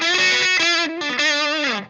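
A Boss DS-1 distortion pedal with its distortion knob turned all the way down gives an electric guitar a light, overdrive-like crunch: a few sustained chords, alone and close, that briefly dip and then ring out again.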